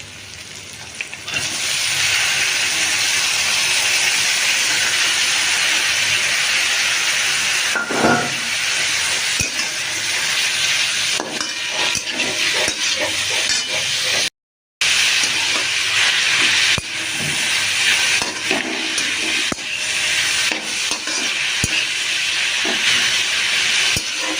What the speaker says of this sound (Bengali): আর যে বাঁধাকপিটা ভাপিয়ে রেখেছিলাম সেটা এবারে দিয়ে দিচ্ছি।